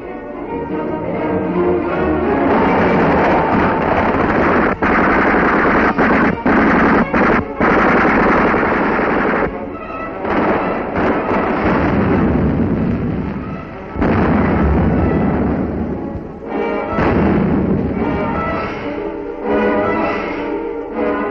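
Wartime gunfire and artillery from a 1943 newsreel of troops crossing a river under enemy fire: dense, continuous machine-gun bursts and heavy booms merge into a loud, harsh, band-limited roar with brief gaps, and no talk.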